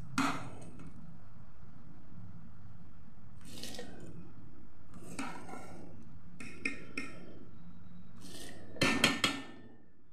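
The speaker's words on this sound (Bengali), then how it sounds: "এবার আমি জল ঝরানো চালটা এর মধ্যে দিয়ে দিচ্ছি।" Soaked, drained rice tipped into a bubbling pot of marinated chicken for Kolkata-style Awadhi biryani, heard as several bursts of wet scraping and clattering against the pot over a low steady bubbling, close and moderately loud.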